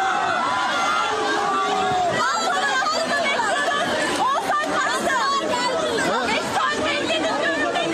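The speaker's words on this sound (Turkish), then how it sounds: "Yuh çekiyor." A concert crowd at an outdoor city-square show in Ankara's Sincan booing, a dense, loud mass of shouting and jeering voices with overlapping calls throughout.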